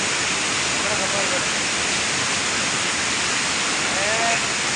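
Heavy rain falls in a steady, dense hiss that stays even throughout, with faint voices barely showing beneath it.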